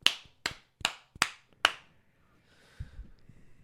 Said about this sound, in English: Better do my claps.